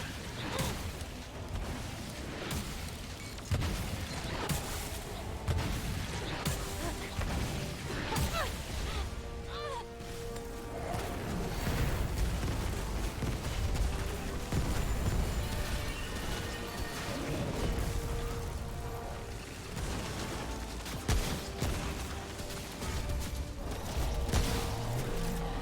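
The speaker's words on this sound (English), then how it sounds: "Explosions. Mortars." Explosions and mortar fire in Remnant: From the Ashes, a dense, continuous barrage of crashing blasts, bursts and whooshes layered over music and game noise, with voices talking throughout.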